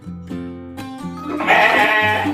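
Sheep bleat loudly and close at a small home-scale sheep farm, several overlapping wavering cries following one another without pause and no talking.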